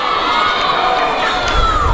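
A loud crowd shouts and cheers continuously at an under-16 girls' youth football grand final between Whitehorse Colts and Hawthorn Citz, with children's voices rising and swelling throughout.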